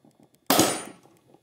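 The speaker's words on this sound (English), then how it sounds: "I'm going to take this link and I'm going to cut it" Cutting a link on a steel drag chain gives one sharp metallic clang, sudden and loud, ringing briefly before fading, with faint small knocks before and after.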